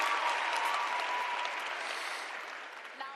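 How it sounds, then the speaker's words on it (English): A town hall audience claps for a singer after the national anthem, a full, steady wash of applause from a large crowd that slowly fades toward the end. "may we please give the lovely Rosemary a round of applause for leading us with the national anthem"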